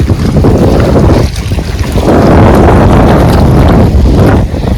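Strong wind roaring and buffeting across a flooded paddy field, loud and continuous with gusty swells, no voices.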